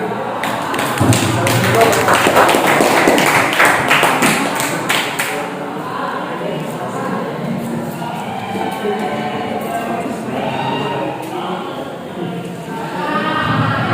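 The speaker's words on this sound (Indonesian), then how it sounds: "Terima kasih untuk kelompok 3 yang sudah mempresentasikannya. Tepuk tangan." A classroom audience applauds a student group after its presentation, with a burst of dense, fairly close clapping in the first few seconds that thins into scattered claps and murmuring voices.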